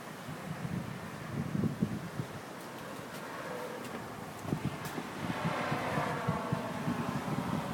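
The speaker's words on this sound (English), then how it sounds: "Really breezy here today." Breezy wind buffets the microphone on a bedroom balcony, a steady broadband rush with gusty low rumbling swells throughout, moderately loud and with no voices.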